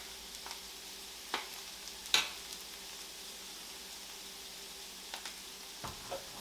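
Garlic drops into a hot frying pan already holding cumin for Tex-Mex chicken bowls, giving a faint, steady sizzle broken by a few sharp utensil clicks against the pan.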